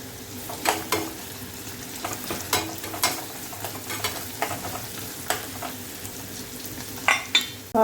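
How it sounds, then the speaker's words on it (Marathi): Onions frying in oil in a pan with peanuts being stirred in for kanda poha: a steady sizzle broken by repeated sharp scrapes and clicks of a spoon against the pan. "तेलामध्ये कांदा परतून घ्यायचा. आता आपण याच्यामध्ये शेंगदाणे घालणार आहोत."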